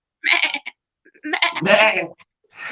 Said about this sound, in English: he's not a deer, he's a goat